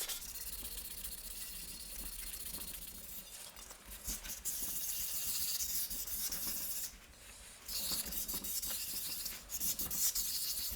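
Wet sanding the metal fount of a 1950s AGM KampLite LRL-21B lantern: steady close rubbing and rasping strokes, continuous with brief pauses, no voices.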